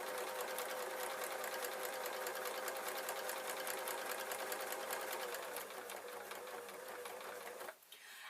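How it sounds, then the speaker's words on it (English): A domestic sewing machine runs a fast, even stitching buzz through fabric for a camera bag pocket, close and continuous for several seconds, then stops abruptly near the end. "I'm going to place it all in my sewing machine"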